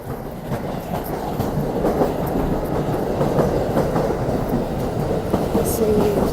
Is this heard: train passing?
yes